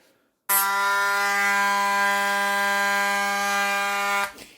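A high, buzzing whine of a Dremel rotary tool running at a steady pitch for about four seconds, cutting in and out abruptly.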